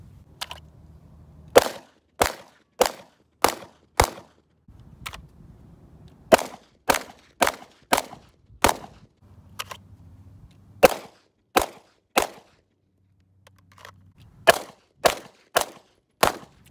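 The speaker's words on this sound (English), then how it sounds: "made it out to the range with my Combat Armory slide build. Early morning, let's beat the heat and take some shots." Glock 19 Gen 3 pistol fitted with a Combat Armory slide, fired at an outdoor range in the early morning: about two dozen loud, sharp shots, mostly single and in quick pairs, separated by short quiet pauses.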